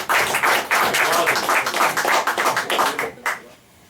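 A church congregation claps hands in a brisk, steady rhythm, many palms striking together loudly and close, before the clapping breaks off and fades near the end.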